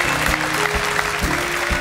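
Studio audience on a German TV football talk show claps, short, dense and loud applause with some low musical or crowd tones underneath.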